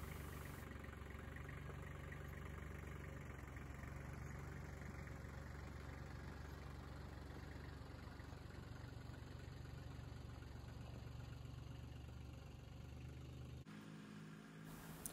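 A tractor engine idles steadily and close by at a farm where trusses are being built for a mill shed, a continuous low rumble with a faint knock that cuts off abruptly near the end.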